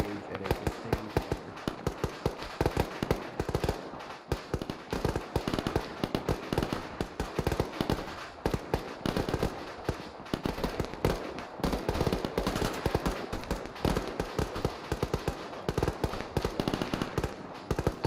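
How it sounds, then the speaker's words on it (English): Sustained gunfire from a squad in a basic infantry training exercise, with rapid, irregular cracks and pops going on throughout while someone talks over the shooting. "I want everyone to engage at a sustained fire."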